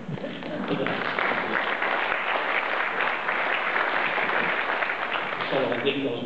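Warm audience applause at a poetry reading during a Dutch poetry night, a dense, sustained wash of many hands clapping at moderate distance, with a brief voice near the end.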